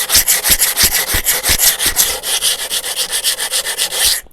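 Steady back-and-forth sanding strokes on a cement planter, a rough abrasive rubbing in a quick regular rhythm, close and loud with no talking.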